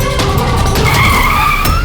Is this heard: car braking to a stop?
yes